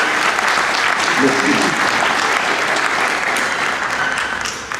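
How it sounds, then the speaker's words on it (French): An audience at a football club's season presentation applauds for a goalkeeper trainer, loud sustained clapping that carries through and starts to fade at the end, with a brief spoken word near the start. "Je souhaiterais qu'on puisse aussi applaudir Jacques Renier."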